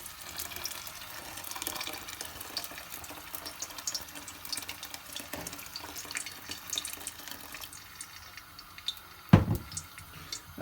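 Boiled water from a kettle is poured over about two mugs of rice in a cooking pot for a veg and chicken biryani, a steady tap-like running splash with faint drips and a brief louder spill near the end.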